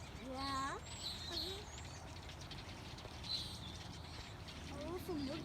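Small birds chirp and tweet in short bright bursts at a distance during a late-fall walk outdoors in Oregon, faint over steady background rumble and wind.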